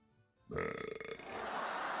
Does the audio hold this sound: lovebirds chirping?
no